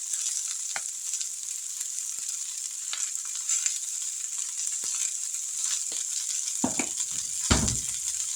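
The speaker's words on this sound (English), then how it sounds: "Give it a stir." Cabbage frying with smoked sausage and onions gives off a steady, bright sizzle, broken by a few soft scrapes and clinks of a utensil being stirred through the pan near the end.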